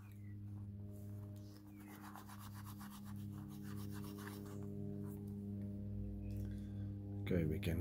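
Scrimshaw bone being rubbed, a faint, raspy scraping texture over a steady low hum, with a brief louder scuff near the end.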